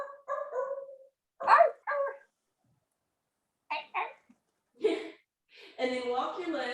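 A person imitates a dog's barks in a down-dog pose during a Halloween Pilates class, giving a few short yelping vocal bursts between pauses, followed by a longer stretch of voiced sound.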